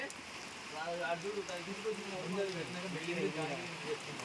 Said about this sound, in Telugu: బయట అయితే వాన ఫుల్గా పడుతుంది వరద పోతుంది